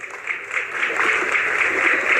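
A rally crowd applauds Dushyant Chautala with a dense, continuous wash of clapping that swells slightly and holds steady throughout.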